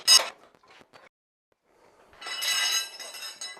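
Motorcycle tyre bead being levered onto a rim fitted with rim locks and a Lucioli tube: a sharp scrape at the start, a few light clicks, then a longer broadband scraping rub of rubber on metal.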